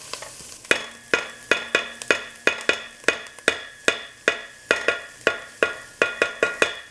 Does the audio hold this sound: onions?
yes